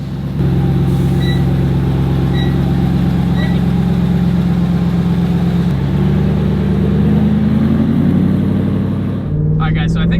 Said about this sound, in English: Make a rip, stomp on the brakes, make another rip, turn up the boost.